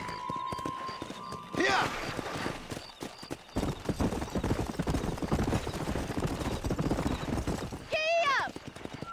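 A horse gallops in the video game Red Dead Redemption, its hoofbeats drumming steadily and loudly throughout, with neighs near the start and end and a rider's shout over the clatter.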